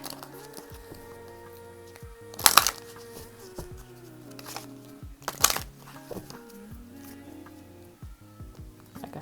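An Enchanted Map Oracle card deck is riffled and shuffled in two sharp bursts, with quieter handling and soft sliding between them over a faint background hum.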